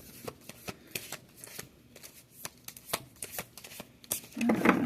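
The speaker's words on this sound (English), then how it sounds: "let's get an oracle card to start with." Large oracle cards are shuffled close by, in a quick run of soft riffling slaps and flutters that grows busier toward the end, with no one speaking.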